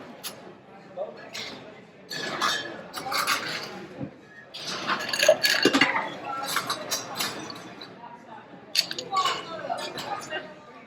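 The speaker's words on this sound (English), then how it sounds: "So while we stir this drink" Negroni cocktail with gin being stirred over a single big block of ice, giving repeated light clinks and rattles at close range, heard beneath ongoing talk from a bartender.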